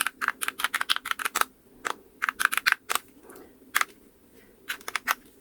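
Fingers pressing the keys of a pocket calculator with a lit number keypad: quick bursts of crisp plastic clicks in uneven runs, close and fairly loud, with short pauses between groups and no voices.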